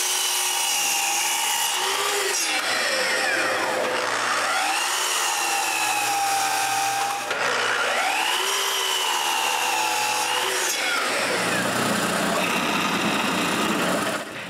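A power tool cuts small wooden pieces for knobs with a loud, continuous whine that repeatedly bogs down and recovers in pitch as each cut is made.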